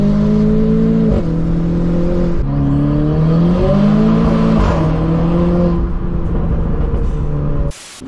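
A tuned Renault Clio 4 RS Stage 3 accelerating hard on a motorway, its engine note climbing and dropping through gear changes with a loud, steady roar and whir close by, no talking.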